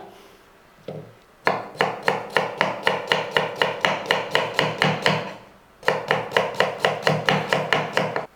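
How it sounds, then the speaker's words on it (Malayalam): A knife slices ginger very thinly on a board for a Kerala-style ginger curry, making two bursts of rapid, evenly spaced, crisp chops close by with a short pause between them. "അപ്പോൾ നമുക്ക് ഈ ഇഞ്ചി ഒന്ന് അരിഞ്ഞെടുക്കാം."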